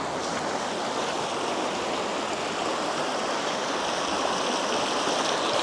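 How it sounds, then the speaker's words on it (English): A small mountain stream on the Jura Creek Trail in Kananaskis, with little side streams, pours in an even, close, unbroken rush of water, steady and fairly loud throughout. "There's like little side streams that jet off as well."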